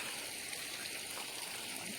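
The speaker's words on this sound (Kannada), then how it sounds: "ಈ ರೀತಿ ನೀರು ಉಣಿಸೋದು ಅರ್ಥೈತಿ" Water poured and flowing onto a newly planted betel vine, a faint, steady wash of trickling and splashing at moderate distance, unbroken for the whole stretch with no speech.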